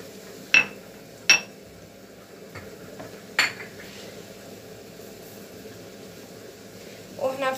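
Spoon knocking against a pot while vegetables and kofta are mixed, a few sharp metallic clinks spaced a second or two apart, then a soft scraping stir at the end.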